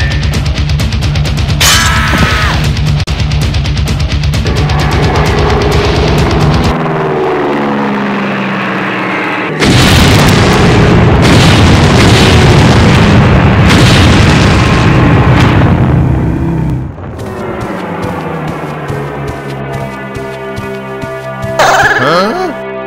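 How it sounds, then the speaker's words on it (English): Booming explosions from bombs hitting the zone in a battle royale game, with heavy low blasts, a lull after the first volley, then more loud booms and a droning aircraft overhead. "In the near future, the zone will be bombed."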